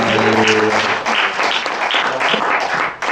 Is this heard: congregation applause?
yes